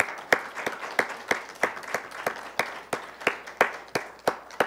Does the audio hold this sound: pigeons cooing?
no